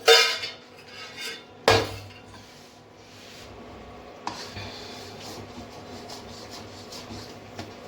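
Sugar syrup gets stirred into a thick besan barfi mixture in a pot, opening with a couple of sharp metal clanks and then steady scraping and knocking of a spoon against the pan.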